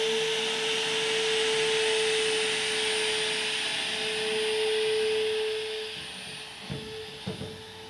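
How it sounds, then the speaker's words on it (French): A hair dryer blows with a loud, steady whoosh and a constant hum, running nonstop before easing down near the end with a few faint knocks. "le rideau qui bouge, simplement, au son d'un sèche-cheveux"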